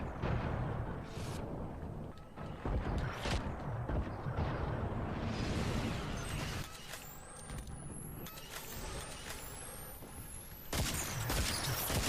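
Heavy sustained gunfire and explosive impacts as weapons shoot down enemy structures in the sci-fi shooter Starhawk: loud, continuous bursts broken by brief lulls and rising whooshing tones.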